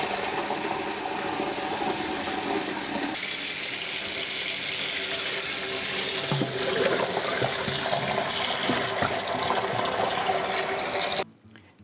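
Water running from a tap into a basin to soak a Römertopf clay baker, a loud steady gush that swells partway through and stops abruptly near the end.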